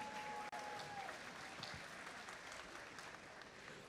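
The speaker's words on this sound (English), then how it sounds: "can we give our referees a huge round of applause?" An audience at a district robotics competition event applauds the referees, with a continuous wash of distant crowd clapping that stays fairly even throughout.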